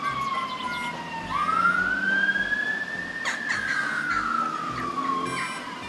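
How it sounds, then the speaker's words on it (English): A police siren in the Roblox video game Froggy-chair wails in long rising and falling sweeps, loud and continuous, with no talking over it. "Sorry from the police noises or ambulance."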